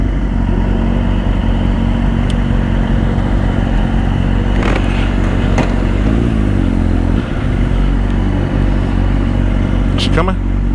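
Old sportbike motorcycle engines run and rev on the road, a continuous loud low engine drone with a few sharp throttle blips, under people talking.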